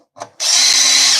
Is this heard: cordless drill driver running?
yes